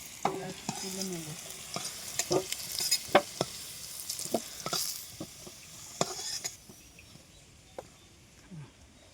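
Potato pieces fry in hot oil in a home kitchen, a soft steady sizzle broken by sharp scraping clicks of stirring, with a faint voice briefly underneath.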